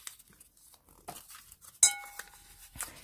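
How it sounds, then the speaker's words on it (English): Paper letters are dropped back into a bowl and stirred, with soft rustling and one bright, ringing clink partway through, then a few faint knocks. "Let me just put these letters back in"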